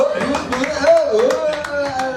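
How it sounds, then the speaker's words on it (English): A comedy show audience claps after a joke, with a clear voice talking over the top: scattered, moderately loud applause running under continuous speech. "Round of applause."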